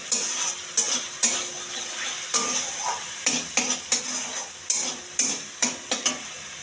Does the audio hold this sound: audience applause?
no